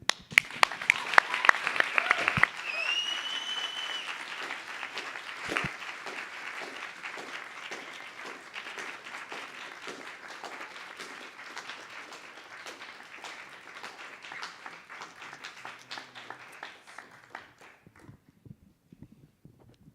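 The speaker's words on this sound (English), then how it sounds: "One more round of applause for Valerie, for Andrea, for Bo, for Mara, for Stella, for Mónica." An audience at a university summer writing program reading claps in sustained applause with a few whoops, loud at first and tapering gradually until it fades out near the end.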